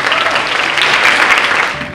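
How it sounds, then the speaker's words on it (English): Brief burst of audience applause for keynote speakers at a college teaching conference, a dense, fairly loud wash of clapping that tapers off slightly. "Let's give a huge round of applause for our keynote speakers."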